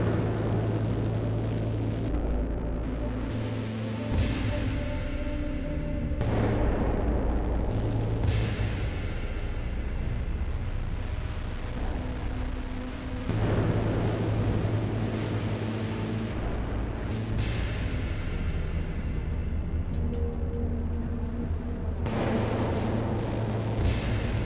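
Heavy booming gunshots and blasts in the video game Children of the Sun, curving bullet shots rolling out in several deep bursts with long reverberant tails, loud and without talking.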